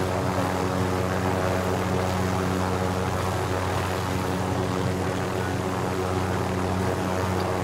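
Helicopter flying in Call of Duty Warzone, a steady loud rotor and engine drone that holds constant and close throughout, with no speech over it.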